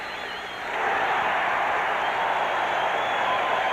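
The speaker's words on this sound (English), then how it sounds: "This crowd's wild here." A 1984 Mets baseball stadium crowd roars after a Dwight Gooden strikeout against the Astros. A dense, steady wash of cheering and applause swells within the first second and stays loud, with no clear talk over it.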